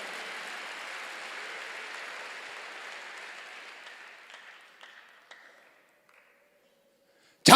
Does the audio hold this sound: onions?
no